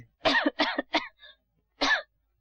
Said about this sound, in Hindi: ये खांस क्यों रही हो?